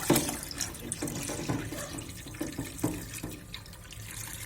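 Heated water is poured into a 10-litre ultrasonic cleaning tank, a close, steady splashing and trickling flow with small gurgles and no speech.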